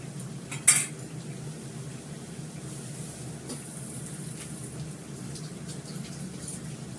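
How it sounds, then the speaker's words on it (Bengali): Ginger paste added to dal in a pot, with one sharp metallic clink of a spoon near the start, followed by faint stirring and soft scraping over a quiet background. "ডালের মধ্যে আমি একটু আদা বাটা দিয়ে দেবো"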